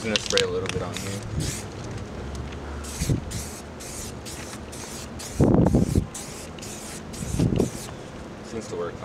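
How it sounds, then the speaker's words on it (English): Short hissing bursts of an aerosol primer spray can, separated by pauses, close up over a steady background noise, while fitting a badge on a Honda Fit GD3. "I'm just gonna spray a little bit on here."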